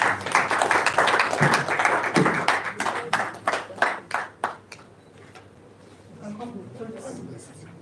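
Applause from the audience at a Nigerian-American Chamber of Commerce event, dense clapping at first that thins into separate claps and fades out after about five seconds.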